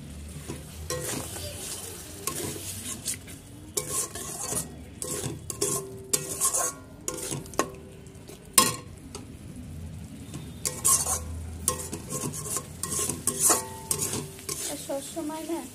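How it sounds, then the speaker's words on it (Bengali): Spice masala of turmeric, chili, cumin, coriander and salt with a splash of water is stir-fried over medium flame, a spatula scraping and clattering in an irregular rhythm over a soft continuous sizzle. "মশলাটাকে ভালো করে কষিয়ে নেব"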